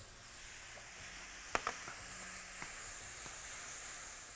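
Water cooking off in a frying pan with tamari and peanut oil, giving a steady soft sizzle and hiss with a few brief clicks and stirring taps, close and moderately quiet.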